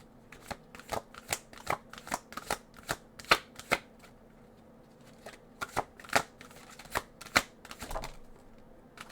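Tarot cards are shuffled by hand, producing a close series of crisp riffling and slapping bursts at an uneven rhythm over several seconds, with no talking.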